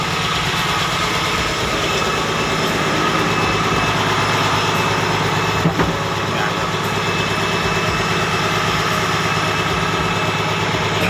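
A boat engine idles steadily in the engine room of a fishing boat, a loud, close, continuous rumble with a constant mechanical drone and no speech.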